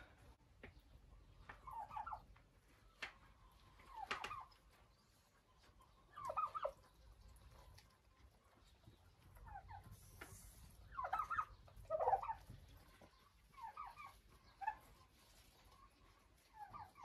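Several turkeys feeding from a bucket of fresh beets give off scattered gobbles and clucking calls in short bursts, moderately near, with quiet pauses between calls.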